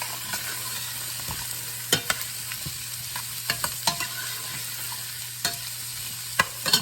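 Chicken adobo being stirred in a pan: a continuous sizzle runs under repeated sharp scrapes and clinks of a utensil against the pan at irregular intervals, close up, with no voices.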